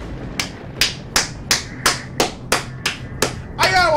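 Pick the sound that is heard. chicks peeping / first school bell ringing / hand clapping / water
hand clapping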